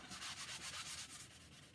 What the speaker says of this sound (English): So I'm just sanding it lightly.